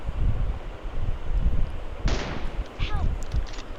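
A gunshot headshot in PUBG Mobile rings out as one sharp, loud crack, with a second fainter report soon after, over steady low game rumble and wind-like noise.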